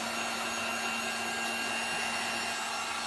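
Hair dryer blowing over hairsprayed styrofoam craft pieces, a constant airy whoosh with a steady motor hum, close and even throughout.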